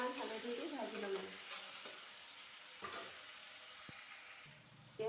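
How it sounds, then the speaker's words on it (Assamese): Onion, garlic, tomato, salt and turmeric fry in rendered pork fat, giving a steady close sizzle with scraping and stirring from a utensil and an occasional sharp clink against the pan. "আৰু সেয়া মাংস বনোৱা তেলতে পিঁয়াজ কেইটুকুৰ দি ল'লোঁ আৰু নহৰু কেইটুকুৰ দি এতিয়া বিলাহীও দি দিম আৰু নিমখ অকণমান হালধি দি ভাজি ল'লোঁ"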